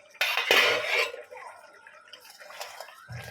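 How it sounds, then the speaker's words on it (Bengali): A metal lid set onto a cooking pot of simmering stuffed pointed gourd gravy: a loud clanging clatter up close, then quieter rattling and a final soft knock. "ঢাকা দিয়ে দিচ্ছি।"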